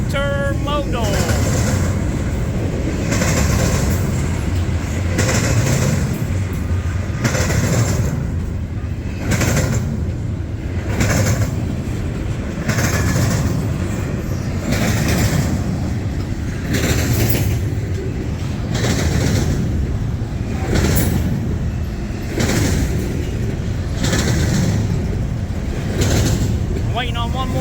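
Intermodal freight train rolling past on the Canadian National-CSX line in wind and rain, a steady loud rumble with regular rhythmic clacks of wheels over rail joints; a person talks at times over it.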